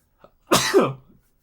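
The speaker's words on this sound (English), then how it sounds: "I couldn't make it through that phrase without sneezing" One sudden, close human sneeze, a short sharp intake followed by a loud explosive burst that trails off within half a second, standing alone against silence.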